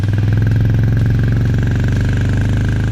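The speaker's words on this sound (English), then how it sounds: "The trademark thump from the exhaust is still there" A Royal Enfield Meteor 350 cruiser runs close by, its exhaust giving a loud, steady, low rhythmic thump with no talking over it.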